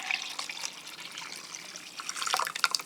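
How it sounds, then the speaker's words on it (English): Colored water is poured from lab beakers in a geology class, giving a light, continuous splashing trickle with faint drips, close and fairly quiet. "I'm basically taking all of these beakers and I'm pouring them in."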